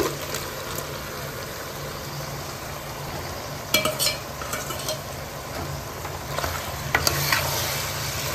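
Goat head meat curry, seasoned with salt, turmeric, chili and ginger-garlic paste, sizzles steadily in a pan while a utensil stirs it with occasional scraping clatters. No one speaks.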